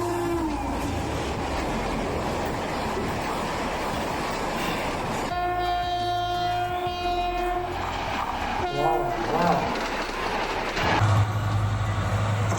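A Bangladeshi train rumbles past, heavy and steady, then its horn blows several long loud tones, followed by a shorter wavering blast and continued rail noise.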